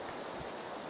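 Steady rain in the video game PUBG, a dense, even hiss of falling water filling the scene throughout at moderate level, with no voices over it.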